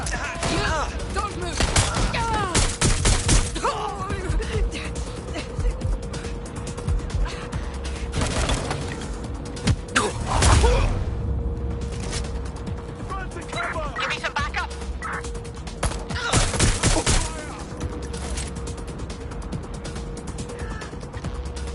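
Gunfire in the video game Watch Dogs Legion: scattered bursts and sharp shots with one louder nearby blast, mixed with game effects and voices talking throughout.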